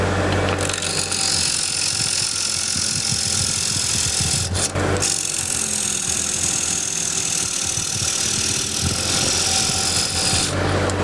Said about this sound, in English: So just clean this up a little bit with the scraper.